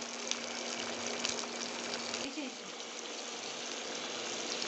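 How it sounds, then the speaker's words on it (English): Steady broadband sizzling and crackling of small bhetki fish wrapped in banana leaf frying in a pan, continuous and fairly loud throughout, with a low hum underneath. "See, it is frying."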